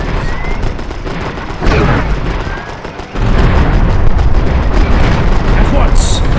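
Loud explosions and booming battle noise from the real-time strategy game Empire Earth 2, set in an 1898 battle at San Juan Hill, with dense continuous rumble, a sharp burst near the middle, and shouted unit voices over it.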